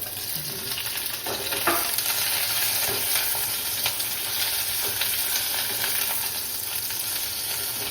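Chillies fry in a pan over steady, close sizzling, with faint stirring scrapes and clicks scattered through.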